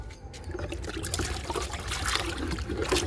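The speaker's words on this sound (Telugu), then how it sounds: "ఇంకా లిక్విడ్ ఇద్దాము. ఇంకొంచెం ఇద్దాము." Liquid fertilizer poured onto potted fruit plants, a steady close trickle and splash of liquid running for a few seconds, with no talking.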